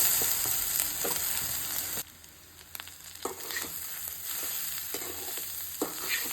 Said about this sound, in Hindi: ना हमें कोकोनट को भी अच्छे से फ्राई करके लेना है इसमें